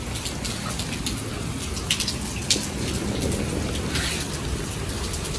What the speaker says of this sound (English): probably we will wait until the rain is stopped